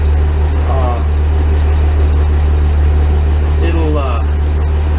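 A truck engine idles to warm the cab, a steady low drone running unbroken beneath a person talking.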